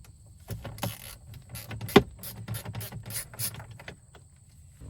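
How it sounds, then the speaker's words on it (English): A 7mm screw is turned out of the dashboard of a Ford Powerstroke truck, likely with a ratchet. Rapid, close clicking comes in short bursts with one sharp snap partway through, and no one speaks. "You see there is a 7mm screw right here, and we're gonna go ahead and remove that."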